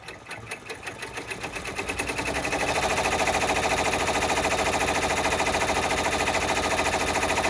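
A sewing machine stitches applique onto a fabric clutch bag, starting with a few uneven stitches and then settling into a fast, steady, close mechanical chatter that runs to the end.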